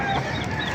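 Brief clucking of a chicken at a poultry market in Baliuag, Bulacan, a short close call over busy market background noise.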